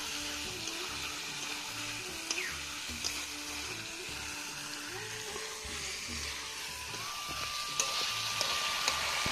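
A ground spice paste fries in a pan for chicken kosha, a quiet steady sizzle with occasional soft knocks and scrapes from stirring, close up.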